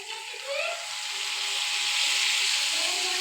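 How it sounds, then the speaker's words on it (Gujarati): Hot tempering of cumin, asafoetida, mustard seeds, green chillies and red chilli powder poured into dal sizzles loudly, a steady close hiss that swells and holds throughout. "આપણે દાળમાં વઘાર નાખી દીધો છે."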